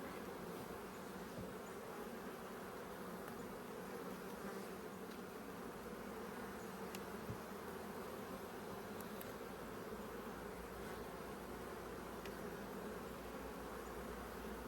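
Honey bees in an open hive, backfilling frames with nectar around hatching brood, drone in a steady, dense buzz that holds without a break, close and continuous, with no talk.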